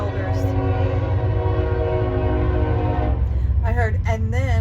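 A train passes with a loud, sustained horn blast over deep rumbling, close and steady, and a voice briefly cuts in near the end.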